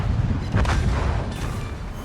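Guns of an enemy battleship fire in a naval warship video game: one deep, rumbling boom swells over a constant low roar of game ambience, with no voices.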